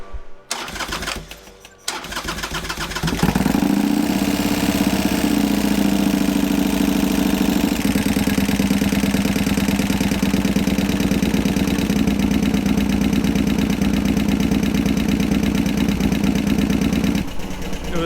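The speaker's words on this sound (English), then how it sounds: "It was idling really fast at the beginning, but it needed to pump the oil." A Harley-Davidson Sportster that had lost all its oil, freshly refilled, cranks over with a few stuttering turns, then catches and settles into a loud, fast, steady idle that holds for the rest of the clip.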